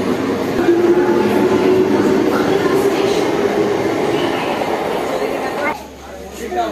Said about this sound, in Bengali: গাইজ আমাদের ট্রেন চলে গেল, যা আমরা ট্রেন পাবো না।